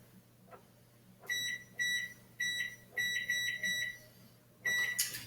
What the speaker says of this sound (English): So I'm going to set my timer for 10 minutes.